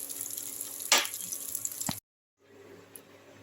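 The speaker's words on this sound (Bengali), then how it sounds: "এবার বেগুনগুলো আমি এইভাবে একটু ভেজে নিচ্ছি।" Eggplant fries in hot oil with a close, busy sizzle and a brief sharp clatter, then breaks off into a short silence before a quieter sizzle resumes.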